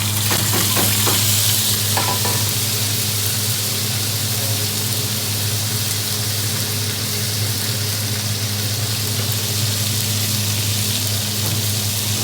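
One medium-sized grated onion frying hard with garam masala for a restaurant-style chicken vindaloo, a loud, dense, continuous sizzle from start to finish with faint stirring knocks near the beginning and no voices.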